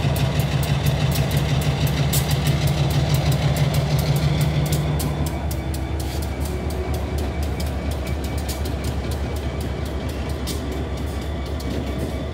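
A GP15-1 diesel locomotive moving west into a siding at a railroad crossing in Macon, Ohio, its steady heavy engine drone and rumble close and continuous, with a faint tone fading out partway through.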